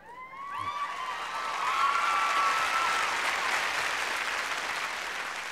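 A theater audience at a live music and comedy show claps together, the applause swelling to a full, dense roar and then holding steady, preceded by a brief fading tonal sound at the start.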